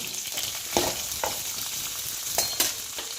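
Green chillies frying in a pan for a Chettinad pirandai thuvayal, giving a steady close sizzle broken by a few short scraping strokes of a spatula, no voices.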